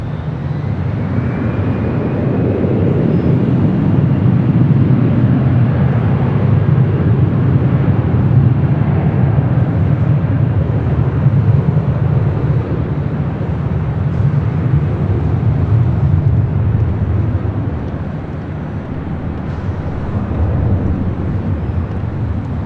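Airliner taking off from runway 24 left at LAX, a loud sustained jet roar that swells and holds, then eases slightly near the end, with some wind rumble.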